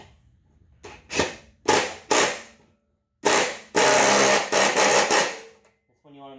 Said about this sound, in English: Get your 14mm impact driving wrench, ratchet.